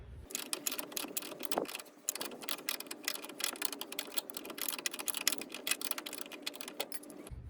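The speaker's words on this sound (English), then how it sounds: "first we're going to remove this nut off the bushing here. That requires a 21 mil wrench." A 21 mm wrench working a nut loose on the front lower control arm bushing of a Chevy Equinox or GMC Terrain, rapid close metallic clicking and ratcheting in a continuous run with a brief pause, no talking.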